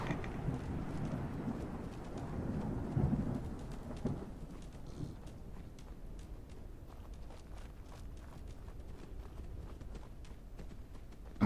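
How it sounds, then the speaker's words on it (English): Thunderstorm inside a video game: a low rumble of thunder rolling through the first few seconds over steady rain-like hiss, then easing into a quieter continuous wash of storm noise. "Oh, okay. I'm just in a storm."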